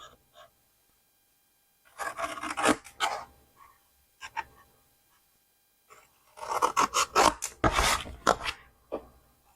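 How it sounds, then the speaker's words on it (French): Scissors cut through paper in two bursts of snipping and rustling, close and fairly quiet, with short pauses between them and no talk. "on prend les ciseaux"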